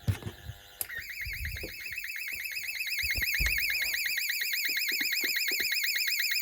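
A 1990s Pyronix Paragon Super intruder alarm's piezo sounder goes off after a few knocks and clicks, a piercing, rapidly warbling tone that swells louder and keeps going without pause.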